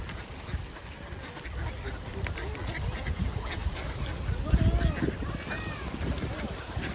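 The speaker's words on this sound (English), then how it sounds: "that's a huge quantity of ducks" Many ducks gather on open, unfrozen water of a winter pond, their quacks rising in scattered bursts over steady wind noise on the microphone, with people talking nearby.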